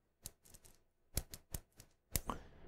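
A loose-ended Jimnie gel rollerball pen gives sharp, isolated clicks in small clusters of two or three, close and fairly crisp, with quiet gaps between them and no talking.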